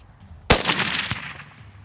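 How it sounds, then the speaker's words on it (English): A single sharp rifle shot cracks out during a South African antelope hunt, fired at a bull, with a loud broadband report followed by a second of echoing rumble across open country. "You can shoot him."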